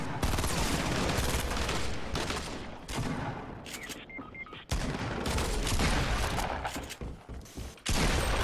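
Gunfire rattles in a video game, with dense bursts of shots and sharp cracks that stop briefly in short pauses, loud and close, and a voice comes through faintly now and then.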